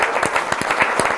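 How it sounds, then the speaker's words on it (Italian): An audience at a CONI Veneto sports federation event applauds, a steady round of close, crisp hand claps with no talking. "un applauso allora al Presidente Bardelle"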